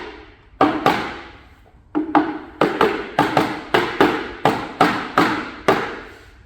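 Milwaukee Packout racking pieces are tapped into place with about a dozen sharp, close knocks, starting irregularly and then falling into a quick, even rhythm.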